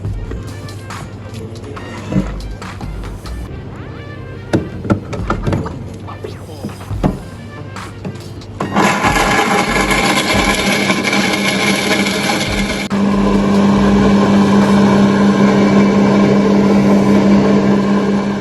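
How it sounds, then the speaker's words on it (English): A blender grinds a coffee frappe of ice cubes, fresh milk and syrup, starting as an uneven rattling of ice and then rising into a loud, steady whir that gets louder toward the end, with no talking. "Okay, it's time to blend it."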